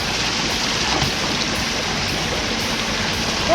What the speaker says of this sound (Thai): เราเห็นเป็นน้ำตกอยู่ตรงเนี้ย